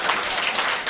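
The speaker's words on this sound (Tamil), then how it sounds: "அவருக்கு ஒரு கைதட்டு கொடுங்க" A brief burst of audience applause at a Tamil talk event, dense and even clapping from many hands, close and fairly loud.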